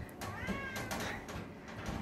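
A cat meows softly a few times in a quiet indoor room, faint and somewhat muffled against a low background hiss, with no talking.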